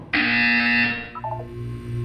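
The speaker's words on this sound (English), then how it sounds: "You will hear a buzzer." A harsh electronic buzzer sounds once in the Portal 2 wellness exercise, a loud sustained tone about three-quarters of a second long, followed by a few short softer beeps and a low hum.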